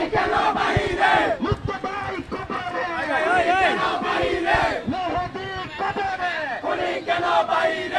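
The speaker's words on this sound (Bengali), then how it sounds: "টিএসসিতে আমরা দেখতে পাচ্ছি স্লোগানে মুখরিত, বিভিন্ন স্লোগানে মুখরিত টিএসসি ঢাকা বিশ্ববিদ্যালয় এলাকা" A large crowd of students chants protest slogans in loud, rhythmic unison at TSC, Dhaka University, with shouted calls and responses repeating continuously close by.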